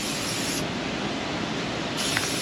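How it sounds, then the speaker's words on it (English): A cheap aerosol can of spray paint hisses in a steady, close, continuous spray over freshly welded metal, with a short change in tone near the start and end. "Throw some spray paint on it."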